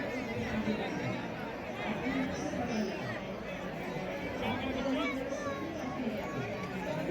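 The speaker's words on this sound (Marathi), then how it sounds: "गंगा आरतीसाठी बघा केवढी गर्दी आहे" A dense crowd of pilgrims gathered for Ganga aarti at Kashi fills the air with steady murmuring chatter and babble, with children's voices mixed in, constant and moderately loud throughout.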